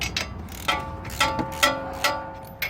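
A ratchet clicks in short, quick bursts while loosening strut bolts on a Toyota Avalon, with several close, crisp pawl-clicking strokes spaced a fraction of a second apart.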